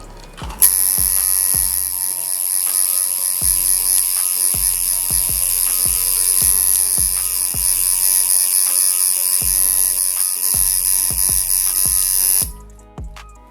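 A coil tattoo machine buzzes steadily at close range, a high electric whine with rapid mechanical clicking, briefly stuttering and then cutting off.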